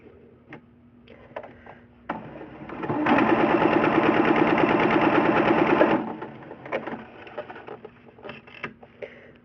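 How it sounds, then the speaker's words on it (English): Sewing machine stitching a quarter-inch quilting seam, a rapid even mechanical chatter that runs for about three seconds after a short lead-in whir, set among faint ticks and quiet room sounds. "we're going to sew the 1/4-inch seam all the way across"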